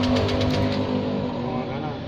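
Motorcycle engine revved with the throttle in a garage, a close, loud rev that peaks and then settles to a lower running hum, with someone talking over it.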